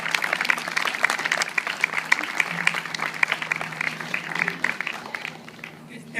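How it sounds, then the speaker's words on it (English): Conference audience at M-Fest 2013 applauding, a steady dense patter of many hands sustained for several seconds, moderately distant, tapering off toward the end. "give you a big round of applause"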